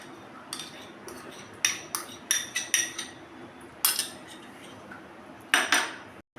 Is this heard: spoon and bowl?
yes